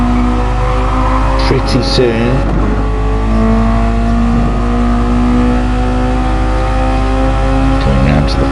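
Race car engines howl steadily in a MaX5 racing video game, one engine revving up and down through gears with a brief tire squeal while a commentator talks over it.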